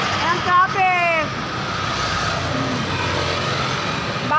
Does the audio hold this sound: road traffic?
yes